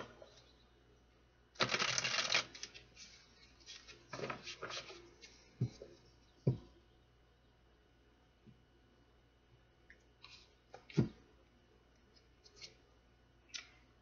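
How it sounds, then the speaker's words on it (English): Crisp papery riffling of shuffled tarot cards in a few quick bursts, with scattered soft taps and clicks between them in a quiet room. "One more shuffle."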